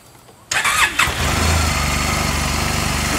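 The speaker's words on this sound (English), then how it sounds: "So let me fire it up." A 2009 Honda Silverwing 600 scooter fitted with a LeoVince slip-on exhaust cranks and catches into a steady low idle, close and loud, with no talk.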